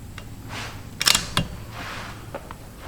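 A Hawke Frontier rifle scope turret clicked right four minutes: a short cluster of crisp, close mechanical clicks in a quiet room, with no one talking over them.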